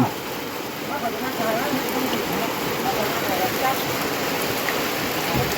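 Heavy storm rain pours down onto a house, a continuous loud hiss and drumming of water on surfaces with runoff splashing, while someone talks over it.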